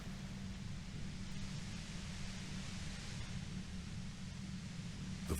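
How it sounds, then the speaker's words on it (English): Violent white noise near a compressor in the video game Disco Elysium: a steady, overwhelming wash of broad hiss over a constant low droning hum, unchanging throughout. "The violent white noise becomes even more overwhelming closer to the compressor"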